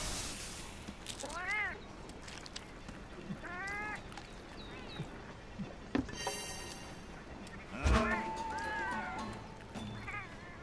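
A cat meows several times in fairly quiet, distinct calls spread over ten seconds, with light background clatter between them.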